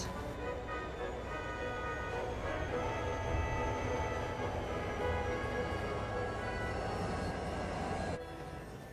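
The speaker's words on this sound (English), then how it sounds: "The 3 took an empty coal train to the desert." An empty coal train passes in a desert setting, a steady loud rolling rumble of wagons with tonal horn-like harmonics, continuous for about eight seconds before the sound drops off sharply near the end.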